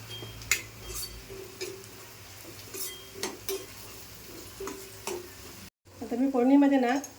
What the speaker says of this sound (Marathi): फोडणीमध्ये थोडासा हिंग पण टाकते.